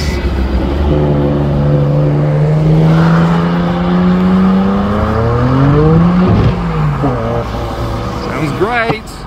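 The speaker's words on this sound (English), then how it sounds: "R32 GTR with golden wheels" Nissan Skyline R32 GTR with golden wheels leaving a car show, its engine droning loudly and rising in pitch through the gears as it pulls away, with a voice talking over the engine noise.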